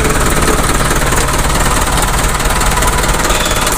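A 1991 Colt Diesel 120 PS truck, formerly a police vehicle, idles with a steady, loud diesel clatter and low rumble that continues without a break throughout.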